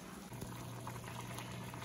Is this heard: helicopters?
no